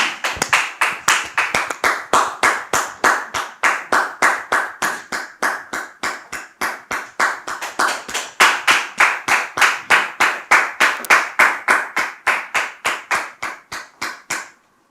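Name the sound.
audience applause, clapping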